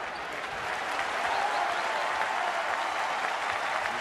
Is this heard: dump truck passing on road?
no